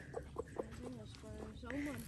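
A rooster on a historic early-1900s farm clucks in short repeated calls, with a longer drawn-out call later, heard at moderate distance while people talk nearby.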